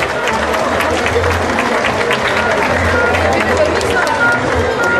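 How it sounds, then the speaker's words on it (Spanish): A steady, dense round of audience applause fills a hall at a live music event, loud and close, sustained throughout without a break. "Fuerte el aplauso, el aplauso para todos ellos también."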